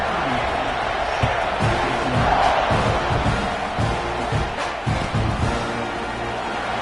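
A football stadium crowd roars before a kickoff just after a point-after-try, a dense, steady wash of cheering and noise throughout, with thumps and shouts scattered in the din.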